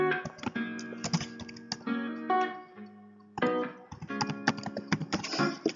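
A computer keyboard is typed on in quick clattering bursts while entering a screen title in an app builder, with brief pauses between runs of keystrokes, close and clear, with no voices.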